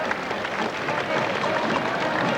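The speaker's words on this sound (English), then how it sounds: "A big round of applause to the horse that gave us so much pleasure over so many years" A racetrack crowd at the 1987 Melbourne Cup parade applauds retired champion racehorse Kingston Town, producing steady, dense clapping that fills the whole stretch at an even level.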